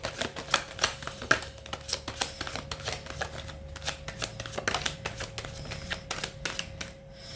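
Tarot cards shuffled by hand before a reading, giving a quick run of crisp, papery flicks and riffles up close, fairly quiet, with no voices.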